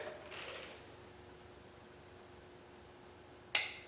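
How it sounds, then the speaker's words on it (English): A torque wrench clicks in a short rapid ratcheting burst, then gives one sharp click near the end while tightening intake manifold bolts on a small-block Chevy V8, quiet and close with a faint hum between. "You need to hold the torque wrench up here."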